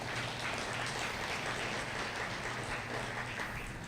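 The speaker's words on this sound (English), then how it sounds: "let's give a big round of applause to all of our new inductees" An audience at the Open vSwitch 2018 conference applauds, a steady, dense patter of clapping from a crowd that holds at an even level for several seconds, heard from a distance, with no voices over it.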